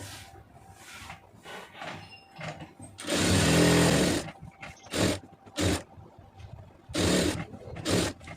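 A sewing machine stitches a lining blouse in bursts: short runs, then a longer loud run of about a second, then several more brief bursts, close and alone with no talk.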